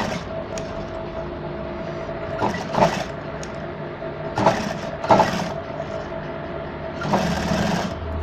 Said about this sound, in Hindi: ऐसे करके इसके जड़ में सिलाई लगा लेते हैं